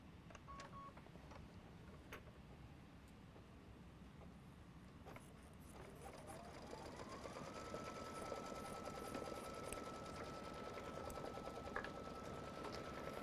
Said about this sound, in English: run your next machine step, which will be your tacking stitch